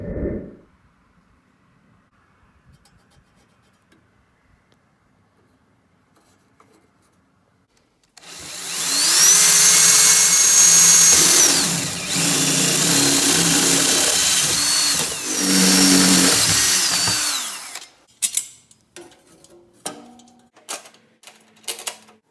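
Power drill boring bolt holes through a metal front bumper on an off-road mower, a loud continuous grinding whine lasting several seconds with a brief dip in the middle, then scattered clicks and clanks as it stops.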